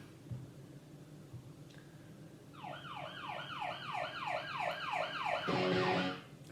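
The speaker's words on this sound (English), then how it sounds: "you would not believe the amount of police sirens we had to listen to get that one" A wailing siren sweeps up and down in fast repeated cycles, growing louder as it approaches and then cutting off abruptly, over a low background rumble.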